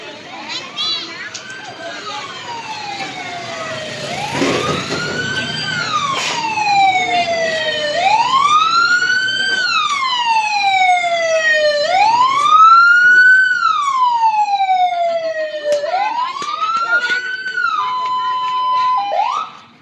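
A fire truck's wailing siren rises and falls in repeated sweeps for about twenty seconds at a fire at an elementary school, loud and close, with faint background voices.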